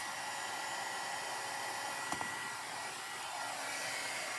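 A hair dryer blows steadily on a freshly painted thrifted chest, a loud, continuous whooshing whine held close to the microphone, with one brief click midway and no talk.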